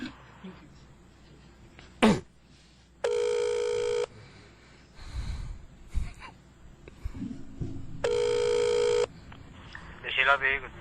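A telephone ringing while calling a guard outside, two separate electronic ring bursts about a second long each with a pause between, heard alongside close breaths, a cough and faint movement sounds.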